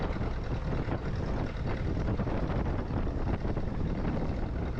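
Strong wind roars steadily and buffets the microphone in a constant, rushing blast that never lets up.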